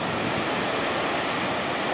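Rough sea surf breaking at the mouth of the River Grey, a loud, continuous roar of crashing waves with wind noise buffeting the microphone, with no voices.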